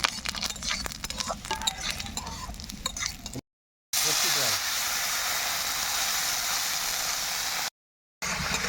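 Dried red chillies, bay leaf, whole cumin and fennel seeds dropped into hot oil, a loud sustained sizzle and hiss after some stirring clinks, with brief cuts in between.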